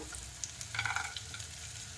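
Half an onion, a few peanuts and tempering spices sizzle in hot oil, a quiet frying crackle that swells briefly as the pan is stirred.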